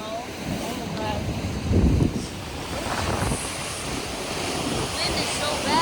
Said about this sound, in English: Wind is so bad.